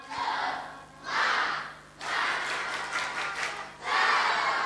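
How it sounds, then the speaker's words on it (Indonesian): Audience performing the tepuk semangat spirit clap at an Islamic talk, bursts of group clapping and crowd noise in distinct phrases with short pauses between, fairly loud and rhythmic, no talking over it. "tepuk semangat."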